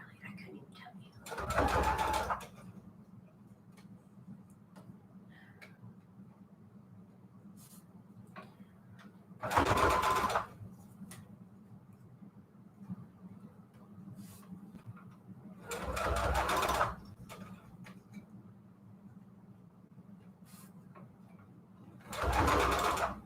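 A sewing machine running in four short bursts, each a couple of seconds of rapid stitching, while ruffled, pleated trim is sewn for junk journals; a steady low hum fills the quiet gaps between bursts.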